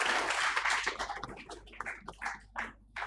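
Applause from an audience at a construction equipment awards ceremony, a full burst of clapping at first that fades into sparser, separate claps over a quiet hall, with no talk.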